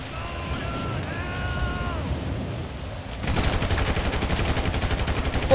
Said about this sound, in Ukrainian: Ось ось мій, до речі, улюблений автомат.